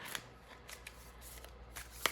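Tarot cards being shuffled by hand, a quiet series of soft riffling and sliding bursts repeating every half second or so, close up and without talk.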